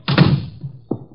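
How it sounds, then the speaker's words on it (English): An interior door is shut in an old radio drama, giving a solid close thunk with a short rattle, followed by a softer second knock a moment later. "Shut the door."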